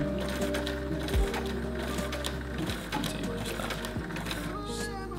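A sewing machine stitches fabric for a pack strap, a steady close mechanical whir and rapid needle chatter that runs continuously, with slight speed changes and a faint voice murmuring beneath.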